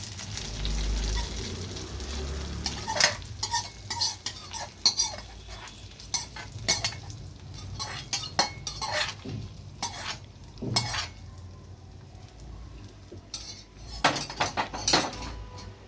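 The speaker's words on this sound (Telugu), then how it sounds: "ఇదంతా కూడా మొత్తం అంతా కలిసే విధంగా చక్కగా కలుపుకోవాలండి" Curd is stirred into cooked rice in a metal pot, a spoon scraping and clinking against the sides in uneven bursts over a faint background hiss, close and fairly quiet.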